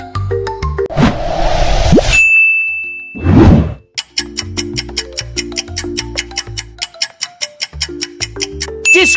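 A sequence of bright dings, whooshing swells and a quick run of rapid tinkling plucks, crisp and loud with no voices, consistent with the Discord logo notification sound.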